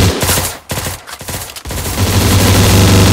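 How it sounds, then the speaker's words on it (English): Rapid bursts of video game gunfire in Surviv.io, loud and close, with stuttering shots that break off briefly before a sustained roar of fire runs to the end, with no voices. "Oh, I'm getting shot at."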